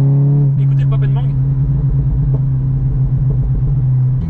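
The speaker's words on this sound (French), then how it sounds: "Écoutez le pop and bang." A 384-horsepower Seat Leon Cupra drones loudly, its exhaust giving a few sharp crackling pops and bangs early on and another around the middle, up close over the engine hum.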